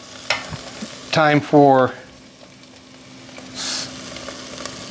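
Garlic frying in a pan for green bean casserole, with a soft sizzle and stirring scrapes beneath a short spoken phrase.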